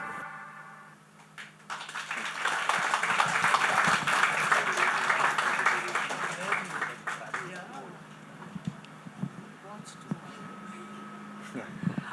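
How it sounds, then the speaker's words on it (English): Audience applause for actor Krishna Abhishek at a promo launch event, a moderate burst of clapping that swells then thins into scattered claps, with voices talking over it. "Wow, I think he needs a big round of applause."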